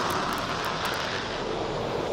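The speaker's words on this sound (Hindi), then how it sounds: "देश के सबसे बड़े एक्सप्रेसवे पर जब एयरफोर्स का मालवाहक विमान हरकुलिस 130 उतरा" An Indian Air Force Hercules C-130 cargo plane lands on the Agra-Lucknow Expressway, its engines making a loud, steady, broad roar that fills the whole stretch without a break.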